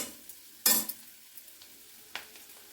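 Chana dal frying in a kadai with a faint sizzle under two sharp stirring scrapes of a spoon against the metal, one loud and one lighter, with no talking.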